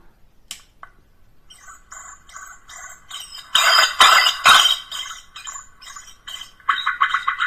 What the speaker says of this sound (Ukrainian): Регулюємо гучність пташиних криків.